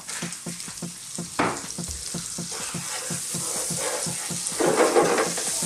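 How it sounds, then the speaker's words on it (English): Unsalted butter sizzles loudly in a hot pan with softened vegetables, a steady frying hiss punctuated by rhythmic scraping stirs, swelling near the end. "I'm now just gonna throw in a little bit of butter, some unsalted butter"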